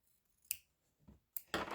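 Scissors snip the edges of a fabric napkin in a quiet sewing room, a few separate crisp cuts, close and sharp, with gaps of near silence between them.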